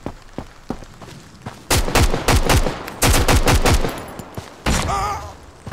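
Video game gunfire in rapid loud bursts, several clusters of quick shots with a brief voice-like tone near the end, close and punchy.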